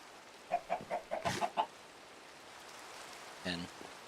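Chickens in the Minecraft Vault Hunters modpack give a quick run of about six short, clipped clucks, followed after a pause by one fainter cluck, all against quiet background hiss.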